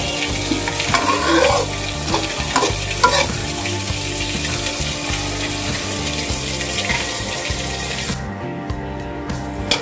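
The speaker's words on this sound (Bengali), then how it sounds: "মাছ ভাজা হয়ে গেছে" Fish frying in a pan gives a close, dense sizzle with crackling and occasional spatula knocks, steady throughout with no talk.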